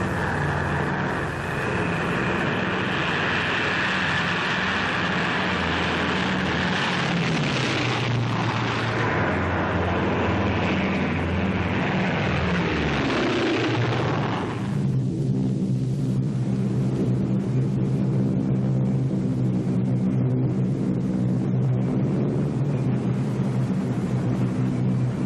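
A squadron of World War II B-24 bombers flying drop tests from a strip on the Isthmus, heard as a continuous loud, droning engine roar with a steady rumble that shifts tone midway through.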